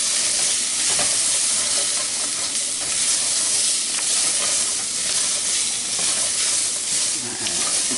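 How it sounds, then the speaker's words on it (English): Vegetables and spices fry in a pan for a veggie curry, producing a loud, unbroken hissing sizzle that fills the whole stretch with occasional stirring. "spices, some of them are toasting down there on the bottom of the pan"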